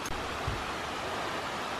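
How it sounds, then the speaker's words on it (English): A river rushes through the woods at Union Gorge: a steady, even broadband roar of flowing water with a faint thump at the very beginning. "So here it's the river creaking through the woods."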